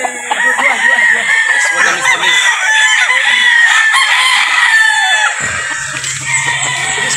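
A Black Boston gamefowl rooster crows loudly and close on a farm, one long drawn-out crow with clucking around it, ending in a brief low call.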